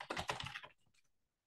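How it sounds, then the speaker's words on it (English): Rapid clatter of keys as a password is typed on a computer keyboard, a quick burst of close, crisp keystrokes fading into a few lighter taps before falling silent. "I will type in a password there."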